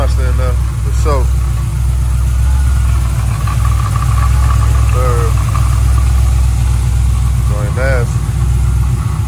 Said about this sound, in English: this motor definitely got a monster in there, for sure.